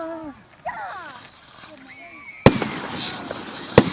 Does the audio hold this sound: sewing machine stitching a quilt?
no